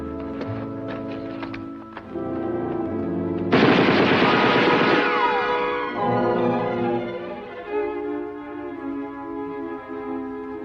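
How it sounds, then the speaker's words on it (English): Gunfire in a war film: rapid crackling machine-gun bursts early on, then a loud dense volley that fades into a lingering rumble under a music score. "I'm going to draw that fire, Red. You pinpoint them."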